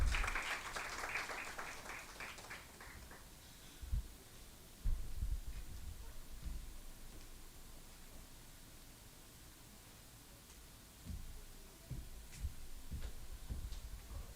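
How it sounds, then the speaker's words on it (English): Audience applause at a formal executive round-table event as a speaker walks to the stage, a broad burst of clapping in the first few seconds that fades into a quiet room hum with scattered low thumps. "Please a round of applause as she comes to the stage."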